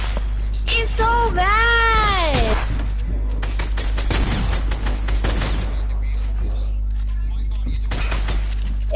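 Rapid bursts of gunfire from a Fortnite match mixed with an upward-sweeping game effect, under near-constant excited voices of players talking over the shots.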